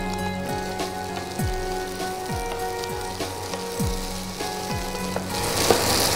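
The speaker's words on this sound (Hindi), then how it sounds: "अब हम इसमें डाल देंगे आलू। ये थोड़ा आलू फ्राई कर लें आप पहले।" Boiled potatoes sizzle steadily as they fry in hot oil with coriander, a continuous close crackle with occasional stirring scrapes and no talking.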